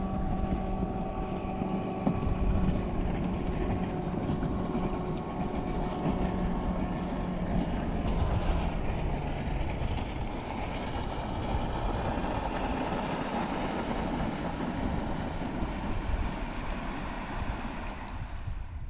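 A small boat's outboard motor drones steadily in a river channel in Arkansas, a continuous low mechanical hum with a rough tonal whine, close and unbroken throughout.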